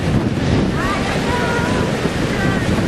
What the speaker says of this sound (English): who's dealing with the wind as best he can